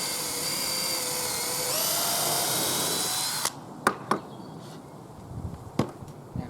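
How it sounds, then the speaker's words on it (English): A power drill with an 8–10 mm bit bores through a hockey stick, whining steadily and rising slightly in pitch for about three seconds before stopping, followed by a few sharp knocks and taps. "I'm drilling this with anything from an 8 to a 10mm drill bit."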